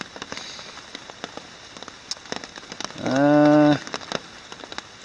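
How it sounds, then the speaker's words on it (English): Steady rain pattering at a campsite on the Cranberry Lake 50 trail, dense drops close by with a brief tonal hum partway through. "Actually, I'm a little surprised by the rain"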